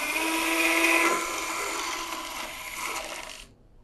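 A high-pitched 3.6 mm dental implant drill whines steadily during guided implant surgery, its pitch wavering slightly as it works, then stops abruptly near the end.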